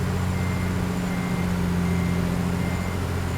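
Backing up in American Truck Simulator, a Peterbilt 379 idles with a deep, even diesel hum and a faint high backup tone running throughout, near and steady with no talking.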